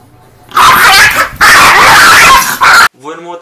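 Dogs bark in loud, harsh bursts from a video being played back, three long volleys separated by short gaps, followed by a faint voice at the end.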